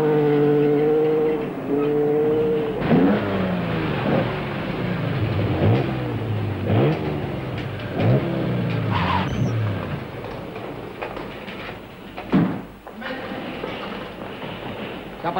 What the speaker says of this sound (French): Ça passe qui, cette voiture-là?